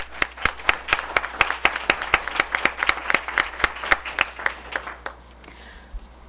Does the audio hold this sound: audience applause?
yes